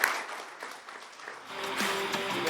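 Studio applause for the team of a local sports television program, a brief soft round of clapping that swells slightly toward the end, fairly faint and distant.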